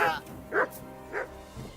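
A game dog in Kingdom Come: Deliverance II gives three or four short, close yipping barks at a steady rhythm between brief pauses.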